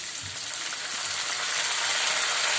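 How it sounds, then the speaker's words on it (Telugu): Onions with freshly added tomatoes frying in a pan for tomato bath, a continuous soft sizzle and crackle that swells slightly, close by with no talk. "ఆనియన్స్ కొంచెం ఫ్రై అయిన తర్వాత ఇప్పుడు టమాటో యాడ్ చేసేసుకున్నాం"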